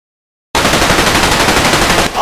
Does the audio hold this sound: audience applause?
no